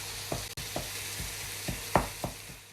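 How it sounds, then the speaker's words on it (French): Minced meat frying in a hot pan while being broken up with a utensil; a steady quiet sizzle runs throughout, with several distinct scraping or stirring knocks at irregular intervals. "Quand vous faites cuire votre viande hachée, pensez à bien la casser."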